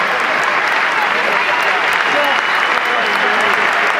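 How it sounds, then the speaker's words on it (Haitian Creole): Congress applauding President Biden's arrival in the House chamber: dense, loud, steady applause from a large crowd fills the whole stretch, with a hint of cheering and voices underneath. "il y a là, gros applaudissements, puis d'applaudissements, des cris même"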